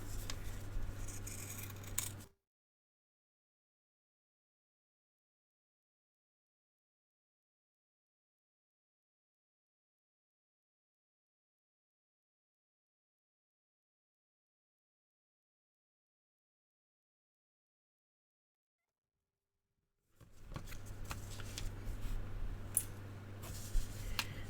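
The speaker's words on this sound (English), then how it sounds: "now we're going to cut out our pattern" Scissors snipping through paper and fabric while cutting out a sewing pattern for a Barbie doll dress, soft close crisp cuts in short stretches separated by a long silent gap.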